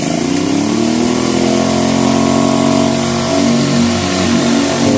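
A Bauer 2300 PSI brushless pressure washer runs and sprays, holding a loud, steady mechanical drone with a whining motor hum and hiss throughout, close by and with no voices.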